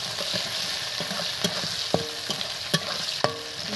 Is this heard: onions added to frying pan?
yes